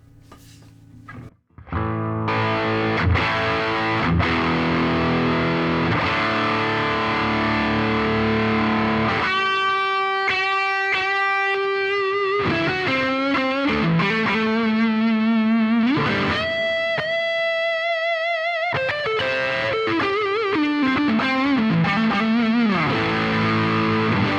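An electric guitar, a Les Paul played through a Marshall Guv'nor tube amp on the edge of breakup, crunchy and gritty with sustained chords and lead lines, loud and continuous for over twenty seconds.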